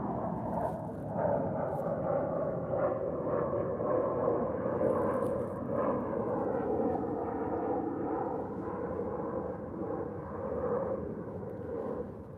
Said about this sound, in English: Here comes that United 787.